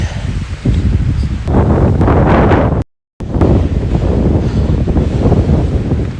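Strong, steady wind roars and buffets the microphone on a mountaintop near Bozeman, Montana, with gusty rumbling throughout and a brief dropout of total silence midway.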